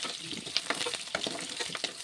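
Winter vegetables fry in mustard oil for vegetarian khichuri, a close steady sizzle broken by scraping stirs of a spatula at irregular intervals, with no talking.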